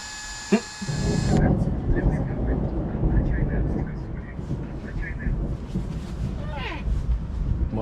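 A loud burst of rolling thunder during a storm at home, a low rumbling roar that swells and lingers for several seconds, with wind noise and a faint high hum at the start and occasional voices underneath.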